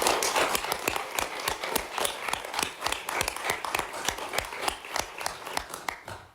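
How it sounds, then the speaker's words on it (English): Audience applause for the president at a university board committee meeting, heard as a steady patter of claps with sharper individual hits standing out, fairly close and filling the room. "if you could please join me in a round of applause for the president"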